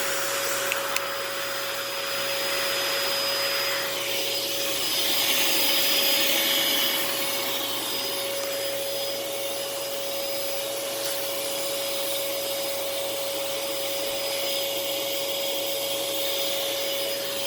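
A Sanyo SC30 vacuum cleaner runs continuously in a living room, a steady whining drone with a high tonal hum, its airflow note shifting as it moves over the floor, carpet or rug.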